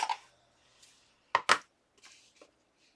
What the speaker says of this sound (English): cut around it with my scissors